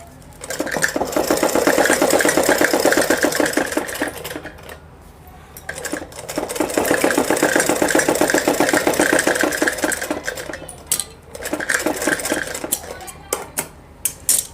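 A sewing machine stitches Patiala salwar fabric in three loud, close runs of rapid rhythmic clatter, separated by brief pauses, with light clicks of handling as the runs end.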